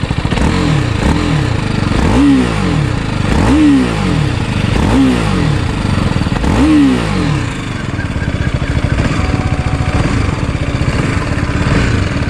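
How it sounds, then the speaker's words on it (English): A 2021 BMW G 310 motorcycle engine revs repeatedly in rising and falling bursts through the exhaust, loud and close, then settles into a steady rumbling idle. "Exhaust feels"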